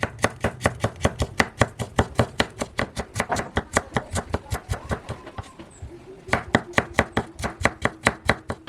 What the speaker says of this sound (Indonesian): Kemudian kita potong kotak kecil seperti ini.